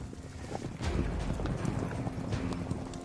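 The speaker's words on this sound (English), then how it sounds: "They're farm horses, you know." Farm horses' hooves clip-clop in a steady, fairly loud rhythm, starting after a short pause and continuing throughout, with no one speaking.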